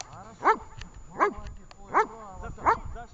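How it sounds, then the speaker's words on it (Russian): A dog barks four times at a steady, even pace during a training session. The short barks are close and clear over low outdoor background noise. "собаки, блин."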